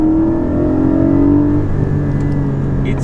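A convoy of cars, including a Porsche Cayman GT4, drives a Scottish NC500 road, producing a loud, steady engine drone with a sustained tone that shifts slightly partway through, with no voices.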